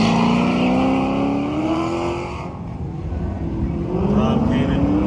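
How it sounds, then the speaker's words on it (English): A 1987 Corvette launches hard at an autocross event in Del Mar, its engine revving loudly with a rising then sustained pitch as it pulls away nearby, crowd and announcer noise in the background. "Pro X in this 87 Corvette"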